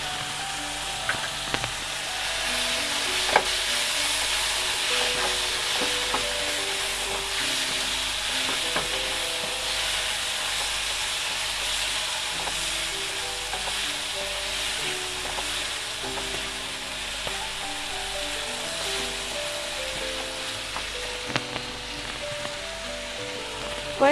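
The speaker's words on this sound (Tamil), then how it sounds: "இஞ்சி பூண்டு பேஸ்ட் போட்டுக்கிறேன்." Ginger garlic paste frying in a pan with mushrooms: a steady, close sizzle that runs throughout, with scattered light clicks and scrapes of stirring and no talking.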